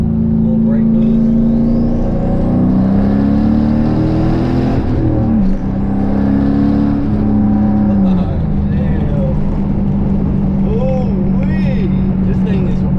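Turbocharged Camaro (Turbo Maro), recently fixed after running on seven cylinders with a bad spark plug wire, pulls hard under acceleration after a brake boost launch, a loud continuous engine roar rising in pitch with people talking over it.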